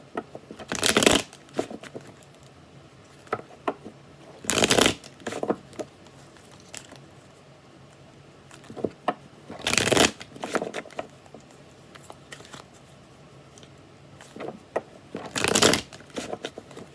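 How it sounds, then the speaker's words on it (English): Tarot cards being shuffled by hand: four distinct, brisk riffling bursts several seconds apart, close and crisp, with soft handling rustles and occasional light taps between them. "Last shuffle."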